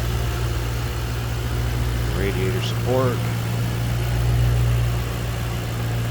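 A 2007 Ford Mustang Shelby GT's 4.6-liter V8 idles with a steady low rumble while someone speaks briefly over it.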